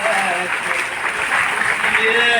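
An audience at a Hindi poetry recital (kavi sammelan) claps in sustained, dense applause, loud and close, with voices mixed in.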